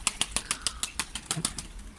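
Tumbler pigeons beat their wings in a fast, regular series of loud claps close by, about a dozen sharp flaps in quick succession.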